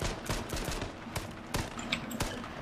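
Rapid gunfire rings out in the battle royale video game H1Z1. The clip holds a quick run of sharp, fairly faint shots at uneven intervals.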